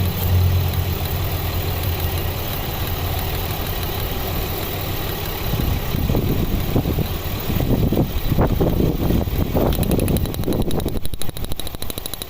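A 2007 Chevrolet Equinox 3.4L V6 runs steadily with cylinder 5 firing, a close, continuous engine idle with a fan hum, turning rougher and more uneven in the later seconds.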